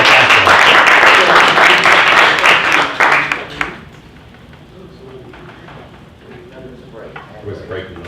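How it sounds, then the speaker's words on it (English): Loud, dense applause from a sales-meeting audience for a broker panel fills the first half, then breaks off abruptly and leaves a quiet room with faint stirring. "give a round of applause"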